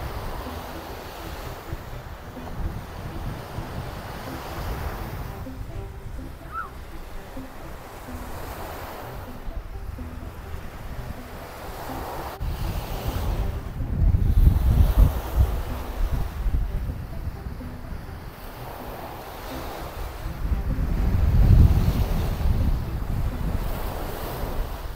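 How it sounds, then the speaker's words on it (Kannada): Ocean waves break on a beach in Sweden, a steady wash of surf with swells building and easing every few seconds. Gusts of wind rumble across the microphone throughout. "ಈ ವೇವ್ಸ್ ಶಬ್ದ ಕೇಳೋಕ್ಕೆ ಯಾರಿಗೆ ಇಷ್ಟ ಆಗುತ್ತೆ ಅಂತ ಕಮೆಂಟ್ ಮಾಡಿ ತಿಳಿಸಿ"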